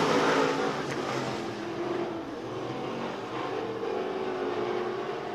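Race cars thunder around the oval at Rocket Raceway Park, a dense, loud engine roar that swells and eases as a driver accelerates hard off a low line, heard without any voices.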